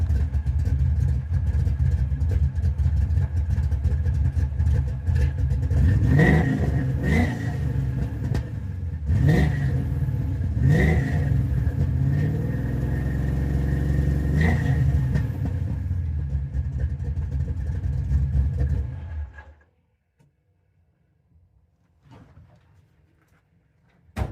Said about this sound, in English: Let me see if I can get a reading revving up.